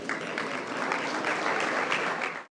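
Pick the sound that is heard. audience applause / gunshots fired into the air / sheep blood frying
audience applause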